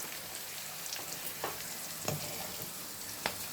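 Spice masala with garam masala, coriander powder and chilli powder sizzles in a frying pan as it is stirred, a soft steady hiss broken by a few faint scrapes of the spoon.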